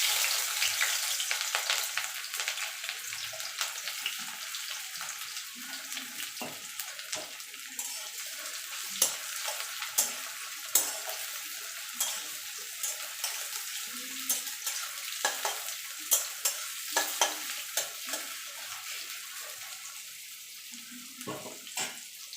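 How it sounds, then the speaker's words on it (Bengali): Onions frying in hot oil give a steady, close sizzling hiss dotted with sharp crackles and pops throughout, with no talking. "এবারে এই তেলে পেঁয়াজটাও ভেজে নেব।"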